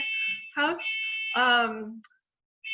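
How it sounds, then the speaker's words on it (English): A fire alarm in a house sounds a shrill, continuous tone that keeps going as a person speaks over it, breaking off briefly before it resumes. "there's a fire alarm going off in my"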